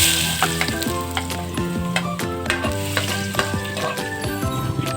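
Garlic frying in hot cooking oil, with a steady bright sizzle broken by repeated clinks and scrapes of a utensil stirring in the pan, close and fairly loud.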